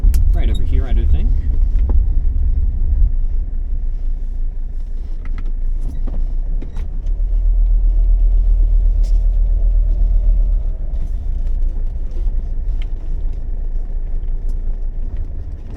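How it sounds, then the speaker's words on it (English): A car reverses slowly into a parking spot on sloped gravel. A deep, steady engine rumble fills the clip, with small knocks and shifts as it maneuvers. "I'm going to park backwards on the gravel."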